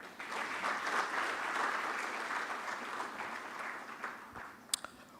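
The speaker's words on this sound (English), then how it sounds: "the biggest round of applause to everybody that is here" An energy conference audience claps steadily, a warm wash of applause that tapers off near the end with a few sharp clicks.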